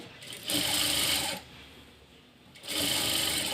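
Sewing machine stitching three pieces of blouse fabric together: two close bursts of rapid, buzzing stitching separated by a short quieter pause, with no talk.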